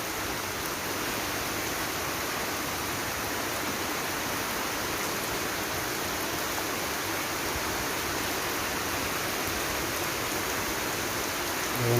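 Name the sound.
heavy rain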